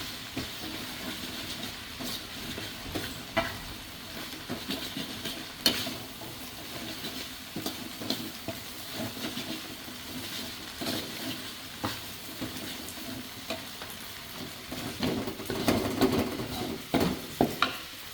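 Glass noodles and beef liver sizzle as they are stir-fried in a pan, a steady hiss of frying with scattered scraping and clinks of stirring, fairly quiet and without voices.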